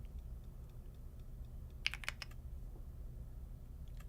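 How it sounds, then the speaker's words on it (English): Quick bursts of keystrokes on a new computer keyboard, faint and fairly close, with a short cluster of clicks in the middle and a few scattered taps later, over a quiet low hum. "Wait, Brett, you got a new keyboard?"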